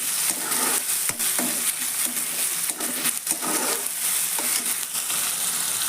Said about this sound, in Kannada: ಟೊಮೆಟೊ, ಈಗ ಕಲಿಸ್ಕೊಂಡು